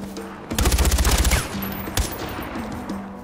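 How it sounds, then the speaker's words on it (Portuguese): Gunfire in the video game Far Cry 4: a rapid machine-gun burst of about a dozen close, loud shots, then a single sharp shot and scattered quieter game sounds. "ai, tô levando tiro, cacete."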